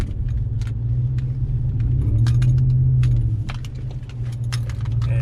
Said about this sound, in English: I had to switch back to four-wheel drive to get through this area